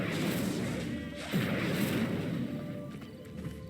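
Incendio fire spell cast in Hogwarts Legacy, a crackling burst of flame with a short whooshing rush over steady game ambience, moderately loud and brief.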